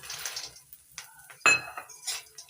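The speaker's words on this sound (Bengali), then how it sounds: "এবার দিয়ে দিচ্ছি শুকনো খোলা ভেজে রাখা মাখনা" Dry-roasted makhana tumbling into a pan with a quick clatter, followed by light scraping and clinking of a spoon stirring, brief and fairly close in a quiet kitchen.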